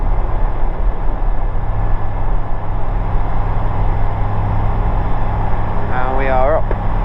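A small Ikarus C42B microlight's engine roars at full power for a short-field takeoff on a grass strip of about 200 metres, a loud steady drone throughout, with a voice speaking briefly near the end.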